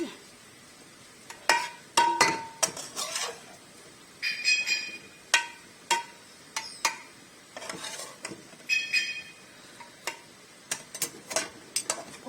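Cooked keema mince, browned with tomato and yogurt, is spooned over rice for biryani, giving a series of close metal spoon clinks and scrapes against the pot in irregular bursts, with soft wet shuffling between them.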